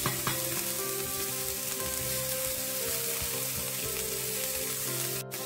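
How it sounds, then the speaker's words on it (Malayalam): Green beans stir-fried in a pan for prawn fried rice, a dense continuous sizzle that stays close and even throughout, with faint stirring underneath. "ബീൻസ് ഇട്ടിട്ട് ഒരു മിനിറ്റ് നേരം ഒന്ന് ഇളക്കി"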